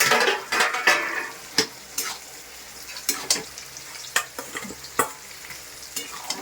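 Fish heads stirred with bottle gourd in a pan at home, with repeated sharp scrapes and clinks of a spatula against the pan over a soft sizzle, close and irregular.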